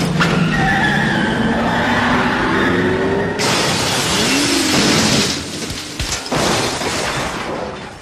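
A sound effect of a Ferrari skidding and crashing: loud, continuous broadband roar with swooping tire-squeal tones, a sudden harsher burst just past the midpoint, and a brief dropout before the noise resumes, with no voices.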